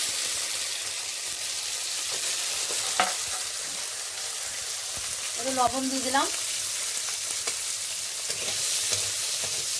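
Chopped ginger and garlic fry in hot oil with a loud, close sizzle broken by a few scrapes of a stirring spoon, while a voice speaks briefly over the cooking.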